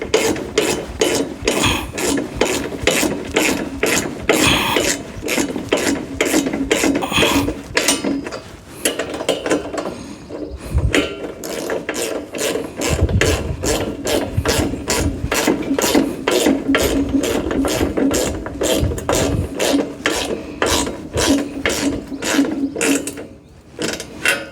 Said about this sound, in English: let's do a little tightening on these. I'm not going to tighten them all the way up